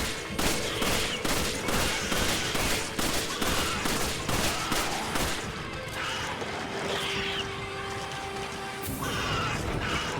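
Rapid gunfire in Resident Evil 5 aimed at a flying monster's belly, dense repeated shots in quick bursts with crashing impacts and creature cries, loud and continuous before thinning into scattered shots.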